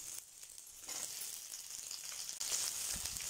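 Finely cut onion sautéing in a pan for mint chutney, a steady close sizzle and hiss running throughout with no talking, briefly dipping just before it swells louder near the end.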